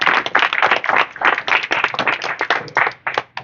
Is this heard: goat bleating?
no